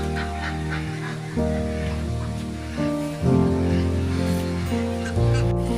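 Domestic ducks at a pond in Green Valley Park, Natore, give loud, overlapping nasal honking calls in repeated bursts. The calls are close by and carry on through the whole stretch.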